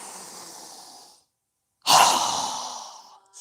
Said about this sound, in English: exhale through our mouth with a strong breath